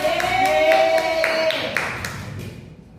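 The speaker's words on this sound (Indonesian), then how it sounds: "Beri tepuk tangan" A classroom of schoolchildren claps together at a teacher's prompt during an Islamic religion lesson, a short burst of rhythmic clapping that fades within about two seconds, with voices around it.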